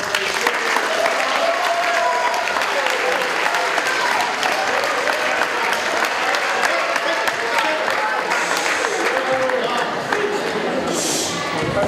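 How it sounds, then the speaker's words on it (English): Applause from an audience at a school open night fills the clip, dense steady clapping sustained for the full twelve seconds at an even loudness with no pause. "a wee round of applause to 2 boys"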